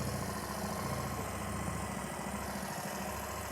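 A motorbike engine idles steadily with a low, continuous throbbing rumble, close and fairly loud, its pitch held level without any clear rev rise.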